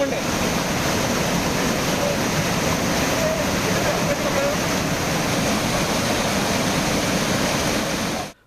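Monsoon floodwater rushes through fields and gardens in Surulipatti village, a steady loud broadband roar of flowing water that holds unbroken for several seconds, then cuts off.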